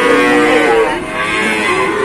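A calf or cow moos loudly and close at a cattle market, one long sustained low call filling the moment with no talk over it.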